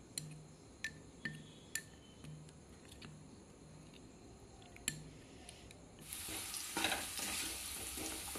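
Potato pieces fry in oil until lightly browned. Quiet, sparse clicks and taps come first, then a soft, steady sizzle swells up and carries on at close range.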